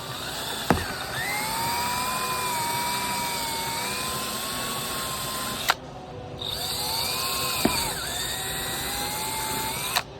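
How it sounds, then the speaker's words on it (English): Drilling holes in the rear bumper of a Corvette C6 to fit a spoiler, a close high-pitched drill whine running in two long bursts with small pitch dips as the bit bites, separated by a short pause, with sharp clicks at the starts and stops. "You guys probably want to see me drill in these holes"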